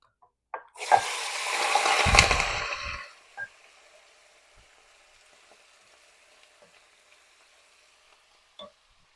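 Cubes of beef chuck roast, about three pounds with some fat left on, hit a hot pot and let out a loud burst of searing sizzle that fades over a few seconds into a quiet crackle, with a few faint clinks.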